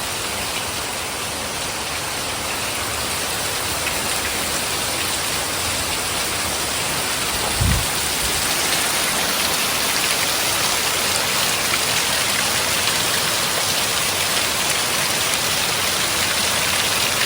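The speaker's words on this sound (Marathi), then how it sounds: "बाहेर म्हणजे जोरदार पाऊस आहे तुमका दाखवून आणते" Heavy monsoon rain pours steadily outside in a dense, unbroken hiss, with a brief low thump partway through.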